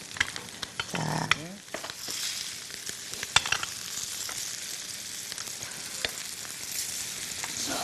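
Yellow croaker fish pan-fries in cooking oil, giving a steady close sizzle with scattered pops and a brief stirring scrape near the start.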